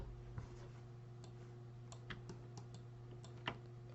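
A few sparse, quiet keystrokes on a computer keyboard while entering a value into Maya software, soft isolated clicks over a low steady hum.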